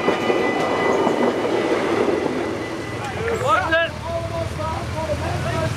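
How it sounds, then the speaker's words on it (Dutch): A train speeds past a closed railway level crossing during a road cycling race in Limburg, giving a loud, continuous rolling rumble, with a brief warbling tonal passage partway through. "een spoorwegovergang die dicht moest vanwege een voorbijrazende trein"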